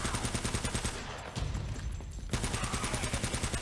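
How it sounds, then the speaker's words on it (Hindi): Rapid machine gun fire in the Uncharted: Drake's Fortune Remastered video game, a loud, steady stream of closely spaced shots that continues through the whole stretch with a brief dip in the middle. "ये नहीं बे, ये मशीन गन निकाल"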